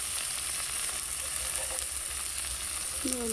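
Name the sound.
water poured into a sizzling pan of pointed gourd and shrimp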